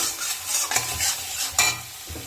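Spice paste with salt and turmeric frying for a patal pasinda dish, a steady close sizzle broken by scraping stirring strokes that rise in loudness at intervals, with no talk.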